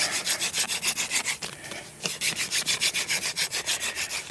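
A wooden hand-drill spindle spun between the palms against a wooden fireboard to start a survival fire, giving a rhythmic, close scratchy rubbing in quick back-and-forth strokes that pauses briefly midway and then resumes.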